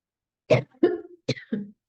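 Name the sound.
coughing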